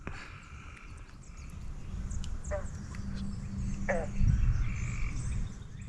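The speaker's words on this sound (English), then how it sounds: "You hear all those frogs back here?" Frogs croak among lily pads in a snakehead fishing spot, a chorus of low throbbing calls with a few louder nearby croaks and bird calls over a steady background hum.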